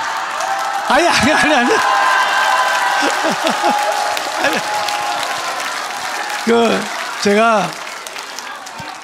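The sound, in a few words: audience applauding at a lecture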